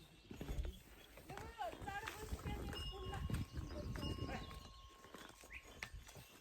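Horse hooves clip-clopping along a dry mountain trail near Dhungé Deurali on the way to Dhorpatan, an uneven walking rhythm close by, mixed with people talking and handling sounds.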